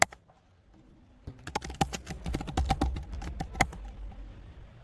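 Fast, irregular clicking of a computer keyboard as a command is typed, the key taps close and crisp, starting after a quiet second and running to the end.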